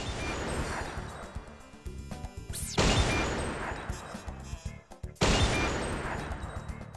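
Repeated gunshots in the Silent Scope video game, sharp loud cracks in irregular bursts with two especially heavy blasts, over a busy game soundtrack.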